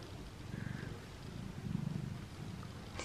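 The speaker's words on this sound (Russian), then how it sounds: "Хотела погладить, а мурчать начал" A domestic cat purring steadily up close while lying down, a soft continuous low rumble with a slight swell in the middle, alone without talk.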